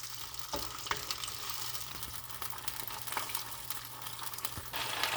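Food frying and sizzling in a pan while being stirred, a steady close crackle with occasional scraping stir sounds, no talking.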